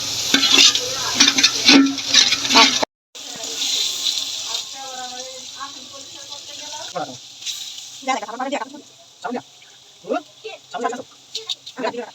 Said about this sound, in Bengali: এখন আমি লাড়া দিচ্ছি লাড়া দিয়ে দিয়ে পানি দিয়ে তারপর ঢেকে দেবো